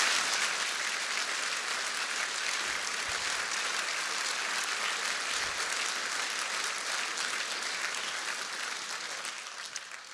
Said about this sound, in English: please applaud again